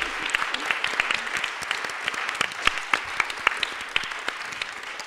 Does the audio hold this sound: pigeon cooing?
no